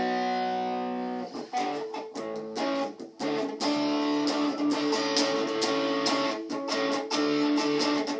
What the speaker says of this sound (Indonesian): Jadi kita pakai aja efek distorsi kok.